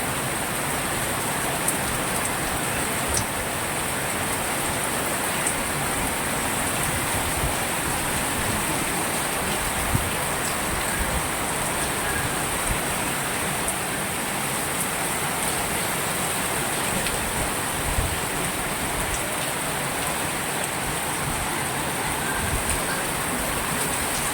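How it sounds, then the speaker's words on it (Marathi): Heavy monsoon downpour hisses steadily over fields at Chikhli near Pune, with water rushing and pooling, a broad unbroken wash of sound with occasional sharper drops. "बघा मुसळधार पाऊस"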